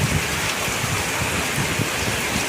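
Heavy, small hailstones mixed with rain drumming steadily on nearby surfaces, a loud, unbroken rush of impacts.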